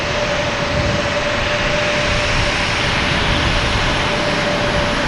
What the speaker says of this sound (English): There's that American Airlines.